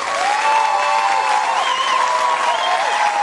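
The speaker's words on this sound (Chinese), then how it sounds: "掌声有请" Studio audience at a Chinese comedy variety show applauding steadily, a dense continuous wash of clapping with some cheering mixed in, loud and sustained throughout.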